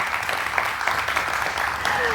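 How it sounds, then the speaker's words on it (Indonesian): A studio audience applauds during a special televised dialogue programme for Indonesian Building Day 2022. The clapping is dense and steady, with a few sharper bursts, and carries on through the whole stretch. "Boleh dong kita berikan tepuk tangan yang paling meriah."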